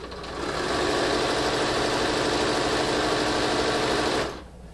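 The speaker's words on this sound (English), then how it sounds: "I'm going to continue sewing" Sewing machine stitching French fold bias binding, a fast, even whirring run at close range that holds steady for about four seconds, then stops abruptly.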